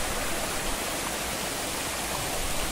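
A large waterfall and its stream in Buxa Tiger Reserve pour with a steady, enveloping roar of rushing water, close and unbroken for the whole stretch.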